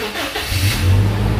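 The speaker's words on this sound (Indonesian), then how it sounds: "ketika kita start mesin, kita hidupkan" A Toyota Kijang's engine catching and settling into a steady idle, a low rumbling drone that rises and holds, close and fairly loud with no voices.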